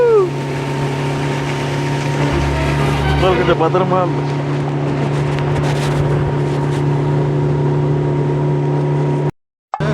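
A high-speed motorboat runs with a steady loud engine drone and water rush on a ride in Alappuzha, and people talk over it throughout.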